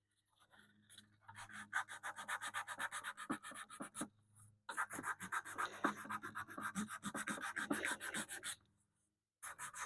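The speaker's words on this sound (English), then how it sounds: "I get this sandpaper at Harbor Freight. It's got the canvas back on it." Hand sanding a tube radio's wooden cabinet with canvas-backed sandpaper: steady, close rhythmic rasping strokes running almost continuously, with brief pauses, and no talking.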